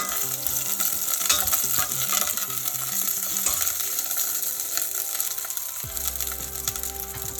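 Ginamay ingredients fry over a medium flame, a steady close sizzle with scraping stirs and utensil clatter running throughout, a brief clank and shift in texture near the end.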